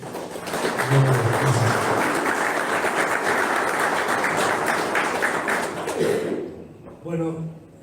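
Applause from an audience at a youth football workshop welcomes a guest, strong sustained clapping with a voice briefly over it, before the applause tails off and talk begins.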